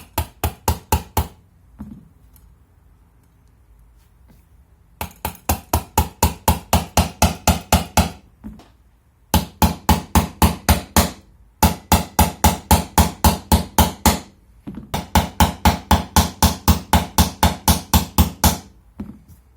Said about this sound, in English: And we'll go ahead and just hammer that in.